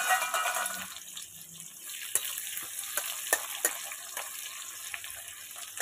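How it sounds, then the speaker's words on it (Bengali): Onions fry in mustard oil in a wok with cumin and five-spice tempering, a steady crackling sizzle punctuated by several sharp ticks and scrapes of stirring; no speech. "পেঁয়াজটাকে লাল লাল করে ভেজে নেব।"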